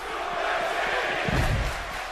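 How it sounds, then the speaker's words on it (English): A large arena crowd in the wrestling video game WWE 2K17 chants and roars continuously, a dense wash of voices with a swell of louder cheering partway through. "And the crowd begging for Suplex City at this point."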